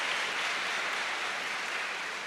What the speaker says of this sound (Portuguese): Uma salva de palmas para esse menino.